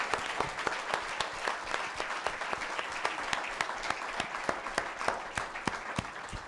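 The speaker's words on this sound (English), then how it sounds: "Big round of applause for the panel." An audience at the Wild & Scenic Film Festival applauds a panel after a screening, giving a steady burst of clapping with distinct individual claps standing out close by and no talk over it.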